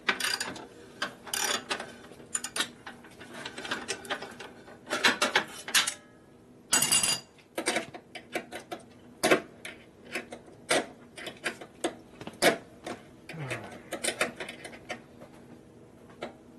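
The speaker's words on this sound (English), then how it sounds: "I don't have any wrenches, so we're going to use a ratchet." Close, crisp ratchet clicks turn a 1 7/16 nut in short irregular bursts separated by pauses, with clanks of metal and some handling noise between strokes.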